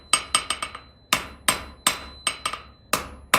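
A blacksmith at the forge hammers hot metal on an anvil, striking the same spot each time. About a dozen sharp, ringing blows land close by in quick bursts with short pauses between them.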